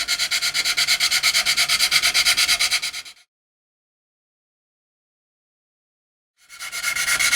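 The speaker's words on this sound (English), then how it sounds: "using a flexi file, this is fitted with a relatively heavy grit, I then start to remove material" A flexi file fitted with heavy grit sands a plastic model seam in fast, even back-and-forth rasping strokes, close and clear. It runs for about three seconds, stops into silence, then resumes at the end.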